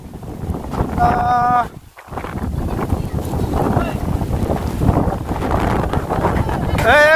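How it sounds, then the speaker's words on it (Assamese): Heavy wind from a rainstorm buffets the microphone in loud, rumbling gusts across open fields, with a brief lull midway and voices shouting through it. "বতাহ লৈ গৈছে গাইছ চৰিয়া উৰাই গৈছে"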